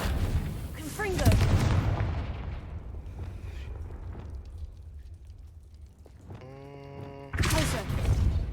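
A Confringo fire spell goes off in the Hogwarts Legacy video game, a loud burst of booming, crackling blasts with game voices and effects around it, then a second heavy eruption near the end.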